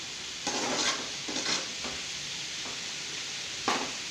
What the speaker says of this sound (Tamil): அடுப்பில் கொஞ்சம் கிண்டி விட்டு வேகணும்.